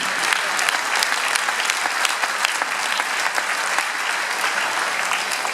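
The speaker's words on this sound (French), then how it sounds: "je pense qu'on peut l'applaudir" An audience applauds a speaker at a president's speech, dense steady clapping from many hands filling the room and holding at an even, loud level throughout without any talk.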